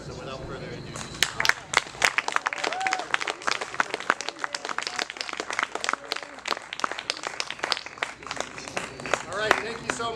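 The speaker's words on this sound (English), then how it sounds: "And another round of applause for Sean and Jeff for those fantastic speech" Audience applause at an outdoor public power festival in Ann Arbor, heard as scattered, uneven clapping that carries on for about ten seconds, with some voices and crowd noise mixed in.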